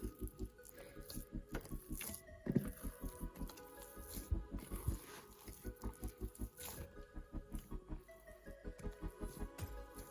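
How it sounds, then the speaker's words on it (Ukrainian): Easter bread dough is kneaded by hand on an oiled surface, giving a rhythmic, squishy slapping and pressing in quick regular pulses. It is close and fairly quiet, with faint background music behind it. "Починаємо вимішувати тісто таким складним методом."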